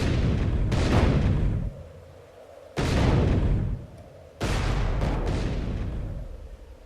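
Tank cannon fire in the World War II tank game Codename: Panzer, three heavy booming shots spaced about two seconds apart, each a loud close blast with a long rumbling decay.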